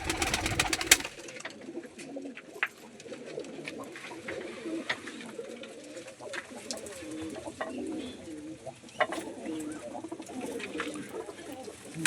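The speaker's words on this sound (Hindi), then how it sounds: "ये देखो ये कुछ देसी कबूतर हैं इनके" Desi pigeons coo in a loft, with repeated soft throaty coos, close by, over quiet rustling and faint background noise.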